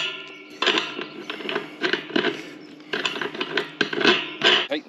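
A bolt with a washer is tightened on DIY forklift forks, a close series of quick ratcheting clicks in short bursts, loud and alone.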